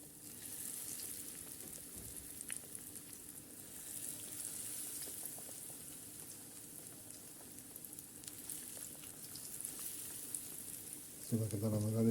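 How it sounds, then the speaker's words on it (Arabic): Breaded chicken pané cutlets fry in moderately hot oil with a steady, close sizzle and crackle throughout, closing on a brief clatter. "يلا هنحمر على طول في الزيت كده"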